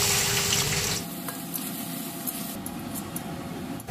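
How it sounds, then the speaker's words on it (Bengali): Sliced onions fry in refined oil in a wok over a high flame for chicken biryani, starting with a loud spattering hiss that drops after a second into a softer steady sizzle, close with no talk. "প্রথমে আমি বেরেস্তাটা ভেজে তুলে নেব।"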